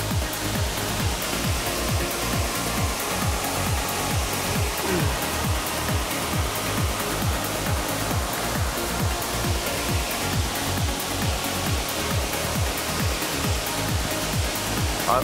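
Steady, loud rush of falling water from a waterfall at a fishing spot, a continuous broadband roar with no talking.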